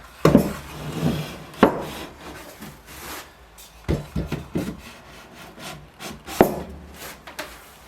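A smoothing plane shaves timber on a wooden pub sign joint, giving repeated rasping, scraping strokes close by, uneven in rhythm with short pauses between passes.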